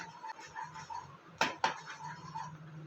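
Rava kesari being stirred in a pan: soft scraping with a couple of sharp metallic clinks of the spoon against the pan, fairly quiet and close, no voices.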